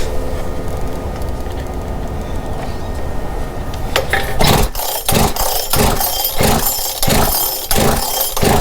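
A Makita 3711 engine after a recoil start. A low, steady tone gives way partway through to a loud, rough running engine that surges in uneven, rhythmic pulses.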